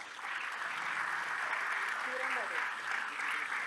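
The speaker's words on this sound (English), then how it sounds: "Please give them a huge round of applause." Audience applause at a book launch, a steady broad wash of clapping that fills the room for the whole stretch, with a faint tonal voice or note drifting through midway.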